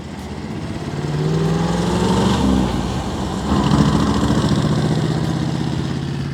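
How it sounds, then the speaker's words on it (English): A 1957 Chevrolet Bel Air convertible's engine rumbles and revs as the car pulls away, a loud low throbbing note rising and falling in pitch, close by with no talk. "there he goes, Jake the Snake, in the mighty 57 Chevy, the classic car that really started it all."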